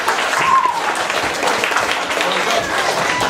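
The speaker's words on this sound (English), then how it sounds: "Give yourselves a round of applause." Village hall audience applauding after a storytelling performance, a warm, steady wash of many hands clapping together, continuous and fairly close for its whole length.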